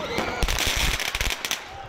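A fireworks display at the annual Victoria Day celebration at Ashbridges Bay in Toronto, a quick run of sharp pops and crackling bursts, fairly close and clustered over a couple of seconds.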